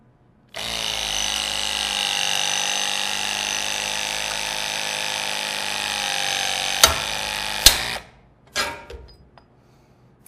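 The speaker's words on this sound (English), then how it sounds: "You notice the punch stopped automatically as soon as the punch came through the material." A Greenlee LS50L knockout punch driver runs with a loud, steady whine for about seven seconds as it punches through material. Two sharp snaps come near the end, the motor stops, and brief clatter follows.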